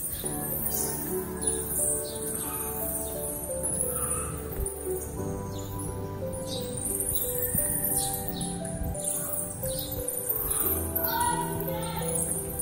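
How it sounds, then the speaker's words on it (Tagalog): Bats chirp high and thin in rapid, scattered bursts at a stone church in Laurel, Batangas, layered over a dense, steady hum of outdoor ambience. "Kala ko mga ibon, mga paniki pa."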